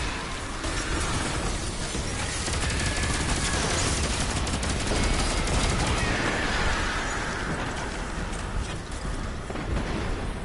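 An auto rifle in Destiny 2 fires a continuous rapid stream of shots, loud and dense throughout with no pauses, alone without talk.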